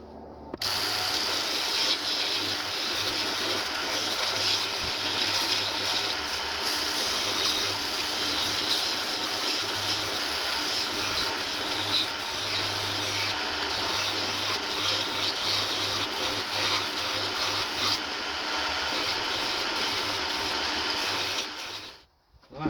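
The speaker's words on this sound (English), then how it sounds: "I'm just going to sand it, make it look a little rounder" Steady, continuous abrasive rasping of sandpaper or a sander on a small wooden rustic Christmas tree, rounding it off, running loud and close for almost the whole stretch with no talk before cutting out at the end.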